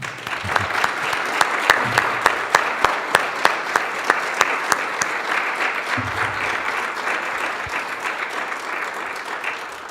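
Audience applause at a first selectman candidates debate in Orange, Connecticut, with a single clap close by, then a sustained round of clapping from the room that keeps up steadily before tapering slightly.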